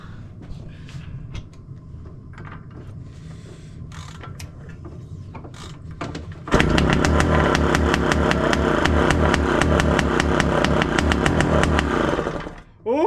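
A Suzuki RM80 motorcycle bored out to 135cc, left unrun for 40 years, sputters through quiet clanking before catching and roaring into a loud, steady two-stroke idle up close, then cutting out abruptly near the end.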